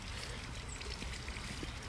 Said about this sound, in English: we can stop up right here by this fountain